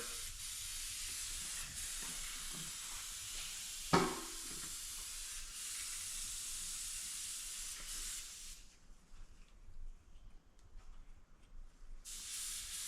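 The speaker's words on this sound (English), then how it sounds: "Right now I'm just cleaning my airbrush out." An airbrush being cleaned out sprays a steady, close hiss for about eight seconds, with a brief sharp knock partway through. The spray then stops and leaves quiet room noise, and a short burst of hiss returns at the very end.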